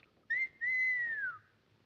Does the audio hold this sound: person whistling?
yes